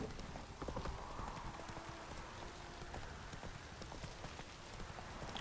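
Horse hooves clip-clop at a steady trot in The Witcher 3, the rhythmic hoofbeats close and continuous beneath a constant patter of rain.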